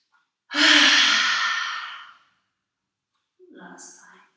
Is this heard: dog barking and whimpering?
no